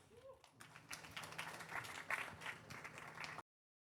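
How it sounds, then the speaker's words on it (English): Audience applause for a speaker at a talk on proving humanity onchain, a scattered, moderately quiet patter of clapping lasting about three seconds before cutting off abruptly. "Please give him a big round of applause"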